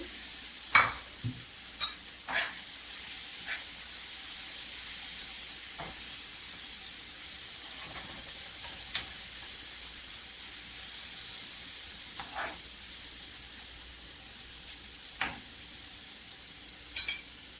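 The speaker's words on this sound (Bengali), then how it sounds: "মশলা ভালো করে কষিয়ে নিয়েছি তেল উপরে বেশি উঠেছে ভেজে রাখা বেগুন ক্যাপসিকাম দিয়ে দেবো" Eggplant and capsicum fry in a spice masala for kofta curry, with a steady soft sizzle broken by occasional sharp spoon taps and stirring knocks, close and without talk.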